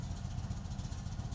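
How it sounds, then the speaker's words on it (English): A 2022-or-newer Indian Chief motorcycle engine idles while warming up, a steady low throbbing rumble with even pulsing, close and continuous with no voices. "Start the engine and allow it to warm up at idle for 5 minutes"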